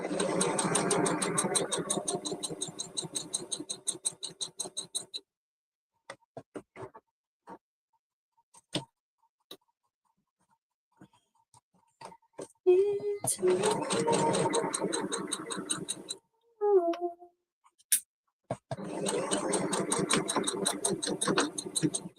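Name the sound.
sewing machine back stitching fabric Christmas tree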